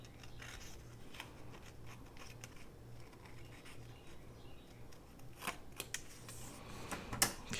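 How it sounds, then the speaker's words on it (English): Small scissors snipping through paper during envelope crafting, with faint, quick, irregular cuts and rustles that are close and quiet, building to a few sharper snips near the end. "Let's get my smaller scissors"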